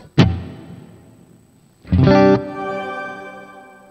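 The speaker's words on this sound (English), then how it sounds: "right now I'm gonna try to use the reverb shimmer in here" An electric guitar run through a Boss GX-100 shimmer reverb patch: a sharp plucked note rings out, then a loud chord strikes and sustains into a shimmering, octave-tinged wash that slowly decays with no talking.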